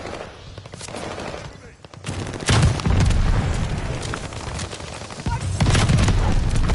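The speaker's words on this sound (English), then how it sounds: "mortar fire inbound" Mortar fire in a combat video game, heavy booming blasts and bursts of gunfire in rolling waves, loud and close with a layered battle din between the impacts.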